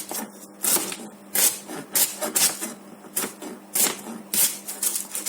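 Rapid chopping of lemongrass on a board, blade strikes coming in quick bursts of several cuts with short pauses between, close and fairly crisp.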